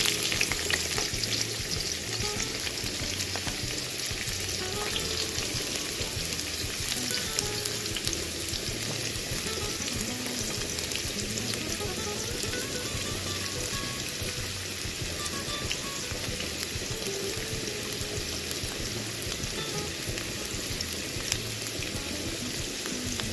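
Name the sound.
onions frying in hot oil in a pan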